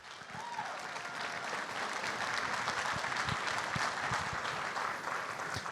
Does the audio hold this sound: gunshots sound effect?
no